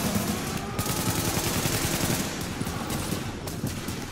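Sustained automatic AK rifle fire in The Division video game, a dense continuous rattle of rapid shots running through the whole stretch, loud and close with no talk over it.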